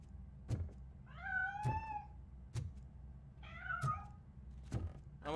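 A cat in a RoboCop video game meows twice in long, rising-and-falling cries, interleaved with several sharp low thunks or knocks at regular intervals, close and clear with no talking.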